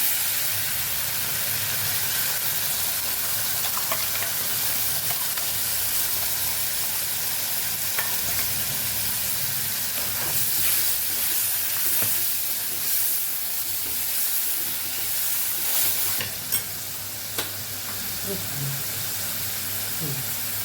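A loud, continuous sizzle and hiss of tomato and coriander puree frying in a hot pan, with occasional stirring scrapes and faint talk in the background.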